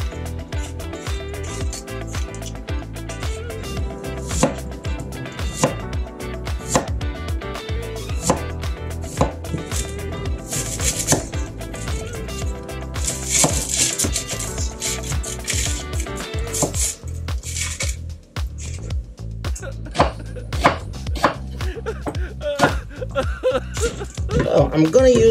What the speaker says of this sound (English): I'm gonna peel the pear and cut this up into some chunks.